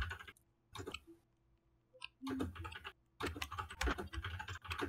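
A computer keyboard is typed on in quick clattering bursts separated by short pauses, close and fairly quiet, with a soft tone sounding between the bursts.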